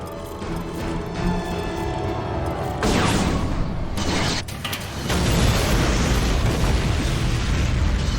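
In Bioshock Infinite, a weapon system fires, and loud, sustained mechanical rumbling and blasts fill the scene, swelling into heavier explosive roars that stay dense and continuous throughout.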